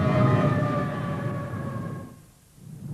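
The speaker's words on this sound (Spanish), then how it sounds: "¿Una bomba de incendios?" A wailing fire engine siren holds steady tones over a low rumbling engine, then fades away near the end.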